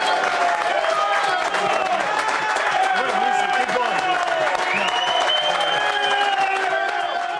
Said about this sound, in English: Well, thank you guys for the applause.